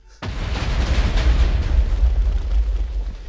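Holy hand grenade blast in modded Minecraft, one sudden loud boom that hits right away and rolls into a long, dense rumbling roar lasting to the end, with no voice over it.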